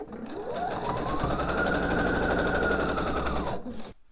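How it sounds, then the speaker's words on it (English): A sewing machine stitching quilt block pieces together runs in one steady, rapid, close-up burst of needle chatter for about three seconds, then stops; no talking. "Going to go ahead and sew those together."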